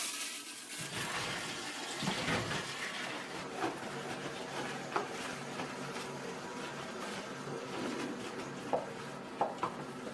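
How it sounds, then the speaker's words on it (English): A toilet flushing in a care setting: a sustained rush of water that swirls and drains, then gives way to quieter refilling trickles with a few small clicks. "Flush and dry."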